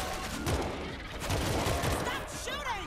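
Dense, continuous gunfire in the zombie shooter World War Z, a steady crackle of overlapping shots in a New York level, with a voice talking over the clatter.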